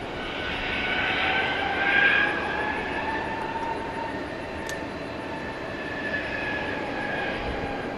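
An American Airlines Airbus A321 jet airliner on the runway at DFW Airport at night, a steady loud engine roar that swells slightly and then holds as a broad continuous rumble.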